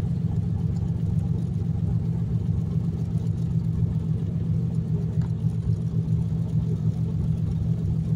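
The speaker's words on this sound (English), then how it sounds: "Fox Body Mustang with 630 rear wheel horsepower" A Ford Fox Body Mustang's 351W V8 making 630 rear-wheel horsepower rumbles steadily at a deep, even idle-like drone, close and continuous without talking.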